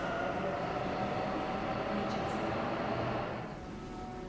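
Inside a Sydney commuter train heading to a hotel's nearest station, a steady, loud rail rumble and wheel roar fill the car, easing slightly near the end without any voices.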